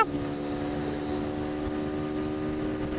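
A Suzuki Gixxer Monotone motorcycle engine runs steady and close, a continuous droning hum with strong even harmonics holding at a constant level, no talking heard.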